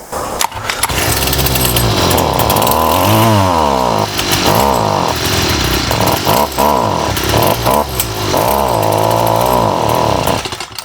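A STIHL string trimmer with a bogging carburetor, just refueled, runs loud and close, its two-stroke engine revving up and sagging in uneven surges throughout, with no talk over it.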